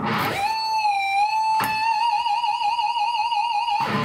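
A sustained electric guitar note with wide, wavering vibrato, preceded by a short attack and a brief pick scrape midway, ringing loud and close.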